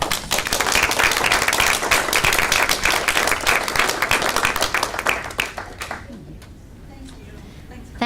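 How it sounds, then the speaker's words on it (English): Audience applauding student participants at a school board of education meeting, a dense spread of claps that holds steady, then thins out and fades near the end, with voices mixed in. "She'd like to give them a round of applause."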